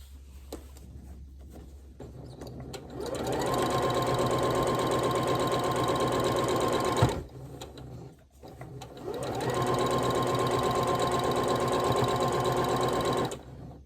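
A sewing machine stitches quilt sashing in two long, fast runs, its rapid mechanical whir and needle clatter close and loud, separated by a short stop with faint handling noise.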